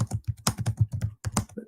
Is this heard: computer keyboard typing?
yes